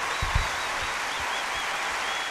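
An audience applauds at a concert, a soft steady wash of clapping heard from a distance. A few low thumps are scattered through it.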